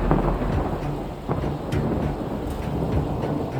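Steady rain pours down with rolling thunder rumbling underneath, a continuous loud wash of rainfall throughout a village storm in Kolhapur, with no voices.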